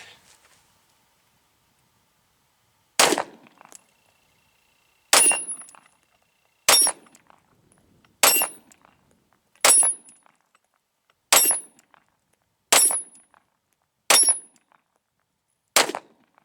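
Nine pistol shots from a CZ 52 fired outdoors at steel targets, each sharp crack followed by a bright metallic clang of a hit plate, spaced about one to two seconds apart after a quiet start.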